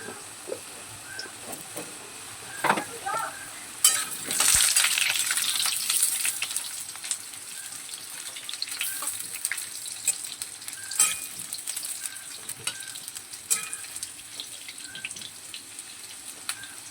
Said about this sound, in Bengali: এবারে আমরা কেটে রাখা আলুগুলো তেলে দিয়ে দিচ্ছি।